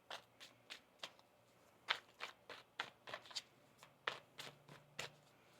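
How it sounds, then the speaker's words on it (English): Tarot cards are shuffled in a steady series of crisp riffling bursts, close and quiet, with short pauses between each pass. "One more shuffle here."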